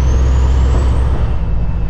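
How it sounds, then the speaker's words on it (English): A semi truck's engine air intakes roar with a loud, steady low rumble and rushing whoosh, heard close up from inside the cab with no talking. "Sound of those air intakes right there."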